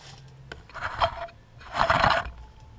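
A ring crusted from tumbling is rubbed in baking soda, making two bursts of gritty, close-up rasping and scraping separated by a short pause.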